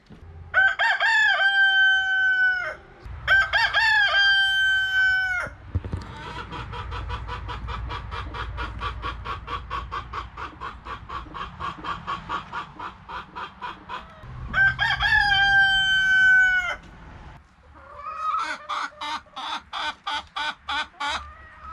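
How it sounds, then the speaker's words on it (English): Loud rooster crows ring out three times, with a rapid run of clucking and squawking hens in between and at the end. "Little lady, that's you making all that noise?"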